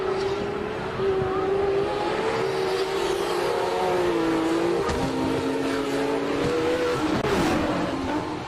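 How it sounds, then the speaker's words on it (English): A high-powered GTR race car climbs the hill at a hillclimb event. Close and loud, the engine pulls through sustained high revs that step up through gear changes, with brief pops and tire noise between shifts. "Let's listen to Farouk Dangle go up this hill."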